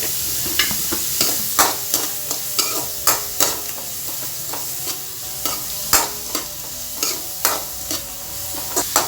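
Sliced onions sauté with salt in a pan for an Onam cabbage thoran, sizzling steadily while a spoon scrapes and stirs in regular close-up strokes, with no voices heard.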